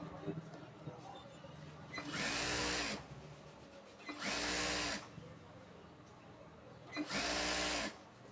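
A sewing machine runs a thin seam along fabric for a palazzo, three short bursts of rapid mechanical stitching, each about a second long, separated by pauses where someone speaks.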